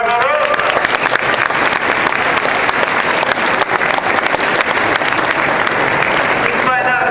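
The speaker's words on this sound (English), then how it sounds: "Round of applause for Grandma Rosa" Loud, sustained audience applause at a fourth grade school performance, a dense wash of clapping hands from a close crowd with faint cheering voices mixed in, continuing steadily throughout.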